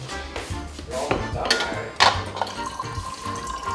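Water runs from a kitchen tap while meatballs are being cooked, a steady splashing stream with clinks and knocks of dishes in the sink, fairly close.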